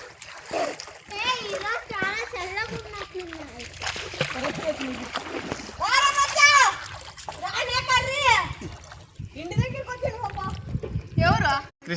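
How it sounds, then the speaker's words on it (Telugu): A family wades into dark river water fed from the Krishna river to swim, with water splashing and sloshing close by under loud, excited children's and adults' voices. "ఇంక మనం నీళ్ళలో దిగుదాం"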